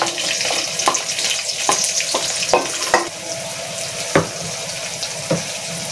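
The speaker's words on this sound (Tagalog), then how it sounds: "lagay na natin ating mantika. Tapos yung ating bawang. Ilagay natin ating sibuyas." Garlic and onion sautéing in hot cooking oil for a crab sarciado, a steady sizzling hiss punctuated by scattered clicks and scrapes of stirring utensils against the pan.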